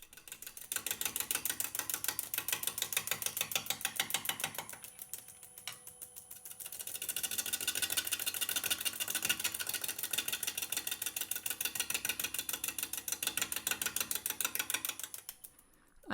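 Rough turning of a green birch bowl blank on a wood lathe, a steady rapid chattering of the gouge against the spinning wood, with a brief lull midway before the close, continuous cutting resumes.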